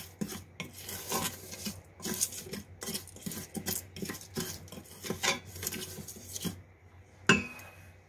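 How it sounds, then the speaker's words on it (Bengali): Cumin and black cardamom are stirred in a pan, giving soft, quiet, rhythmic scraping and rasping strokes, with one sharper metallic clink near the end. "এবং বড় এলাচ দিয়ে আমি 2 মিনিট একটু নেড়ে চেড়ে দিব এখানে।"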